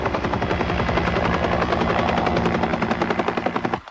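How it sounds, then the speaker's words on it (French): Helicopter landing on a ship's deck in a 1980 deep-sea salvage film, a loud close rotor thump with rapid regular blade chop throughout that cuts off sharply near the end. "Hélico 3 à ponter."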